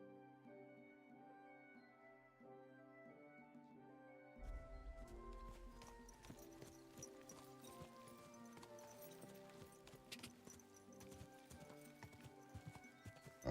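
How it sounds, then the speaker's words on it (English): Horseback riding in Kingdom Come Deliverance 2, with quiet game music at first and then steady hoofbeats breaking into a continuous clip-clop gallop under the music, fairly loud and close. "Andar de cavalo."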